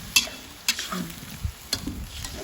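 Pork stir-fried with red curry paste and water spinach hisses in a pan, with a few sharp scraping stirs punctuating a steady nearby sizzle.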